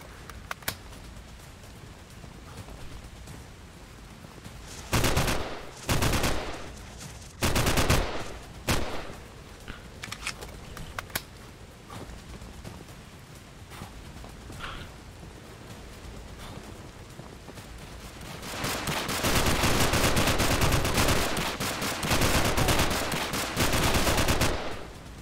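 Gunfire in the indie first-person shooter Frost League: scattered loud bursts of shots in the first half, then a long dense barrage of rapid fire near the end, over a low ambient background.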